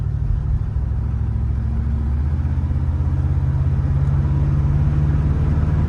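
A 1979 Oldsmobile Cutlass Supreme with 43K original miles runs steadily at idle, giving a constant low rumble heard close and even for several seconds, with no voices.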